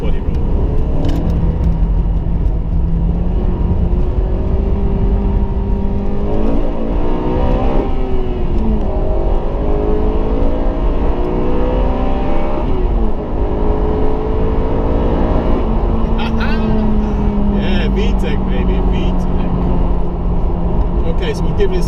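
2007 Honda Civic Type R FN2 accelerating hard around a roundabout, engine note climbing and falling in steady sweeps through the revs, loud and close throughout with someone talking over it.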